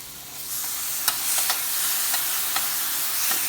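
A handful of garlic searing in a very hot skillet, loud continuous sizzling close by with a few sharp scrapes and clicks as it is moved around.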